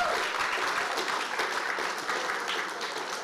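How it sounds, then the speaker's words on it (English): Audience applause at a water polo awards ceremony, a dense steady burst of many hands clapping that fills the room and holds at an even level from start to finish. "that's worth applause"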